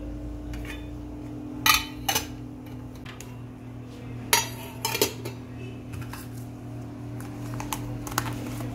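Plastic lunch box containers packed with curries and rice being closed, a few sharp snaps and clicks scattered over a steady low hum, close by, with soft handling rattles between.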